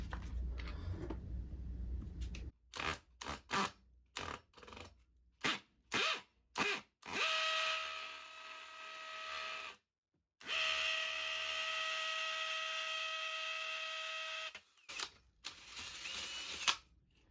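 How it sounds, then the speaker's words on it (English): A hammer drill bores into a hollow concrete block in short bursts at first, then two long steady whining runs broken by a pause, ending with a few brief bursts, close and fairly loud. "Put my drill to hammer mode."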